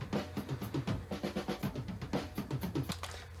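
Sampled drum loop played back quietly, with a steady run of punchy kick and snare hits and busy cymbal ticks repeating in a tight groove.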